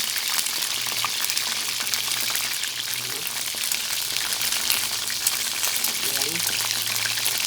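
Chicken wings deep-frying in oil with fish sauce in a home kitchen, a steady loud crackling sizzle with dense popping that runs throughout and never lets up.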